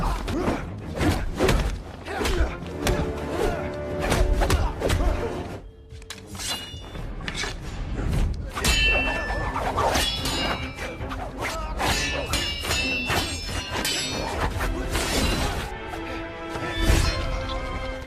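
Martial arts fight blows in a revenge film: repeated heavy thuds, whacks and crashing impacts land in quick bursts over a dense, loud musical score, with a brief lull partway through.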